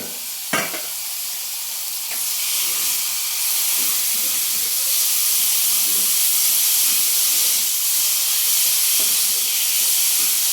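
Ginger, green chili and coconut paste frying in a pan, a loud continuous sizzle and hiss throughout, with a sharp clink of a utensil near the start and faint stirring scrapes.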